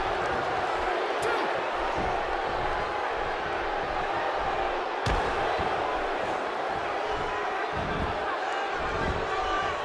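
Arena crowd in the WWE 2K16 wrestling game at a Survivor Series 10-on-10 match, a dense, steady roar and buzz throughout, with sharp impacts and a commentator talking over it.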